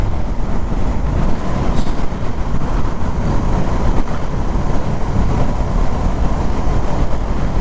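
Dhaka–Rajshahi train passing close by, a loud steady roar and rattle of wheels on track that fills the whole clip with no talk.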